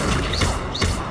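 An Accio summoning spell in Hogwarts Legacy on PS5 gives a brief double whoosh, two quick sweeping rushes under a dense, constant game ambience.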